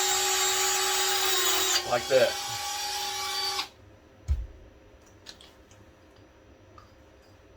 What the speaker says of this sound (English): get my Dremel with the trusty sanding wheel, and just quickly hit it